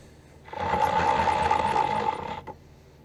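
A machine, likely a lathe, turns at very slow speed while shaping an eccentric for an oscillating steam engine, a steady mechanical hum and rattle starting after a pause, running about two seconds, then stopping.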